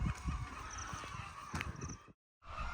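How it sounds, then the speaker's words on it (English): Poultry farm chickens in Ghana cluck and call together as a busy, distant flock, a faint steady din broken by a brief gap of silence near the end. "And there's the chickens."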